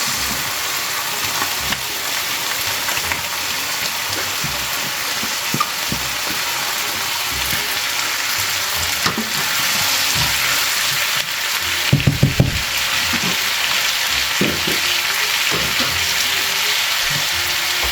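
Vegetables frying in a hot pan give off a loud, steady sizzle that runs throughout, broken by a brief cluster of clinks partway through.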